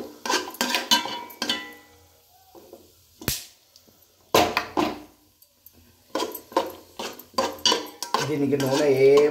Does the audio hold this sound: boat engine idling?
no